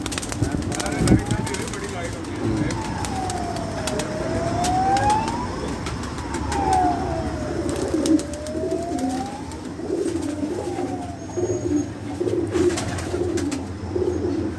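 Racing pigeons cooing on a rooftop, repeated swooping calls close by over a steady background hum, with people talking intermittently nearby.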